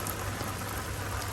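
Heavy monsoon rain pours down in a dense, steady hiss of fat drops, loud and constant throughout with no voices.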